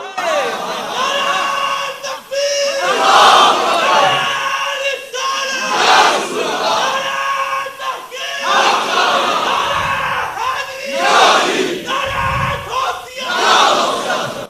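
A crowd at a religious gathering chants slogans in loud repeated bursts, many voices shouting together in waves with brief dips between calls, close and energetic.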